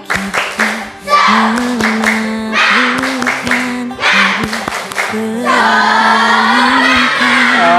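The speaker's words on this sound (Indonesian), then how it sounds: "Tepuk semangat." A class of children performs a rhythmic spirit clap in a classroom, sharp claps in patterned bursts mixed with loud young voices chanting along, close and lively throughout.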